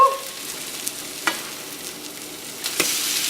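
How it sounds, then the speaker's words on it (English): A French toast slice sizzles in butter in a non-stick pan, a steady frying hiss with a soft spatula scrape and a light slap as the slice is flipped, alone without voices. "I always take more butter and just put it on each of the French toast slices. And then you just take it and you do a flipperoo"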